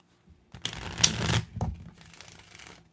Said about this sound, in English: I think we've got a good shuffle.